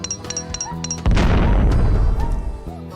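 A bomb in Lode Runner Online: The Mad Monks' Revenge goes off as a single loud, deep boom that rumbles and fades over about two seconds, set between short chiptune game tones.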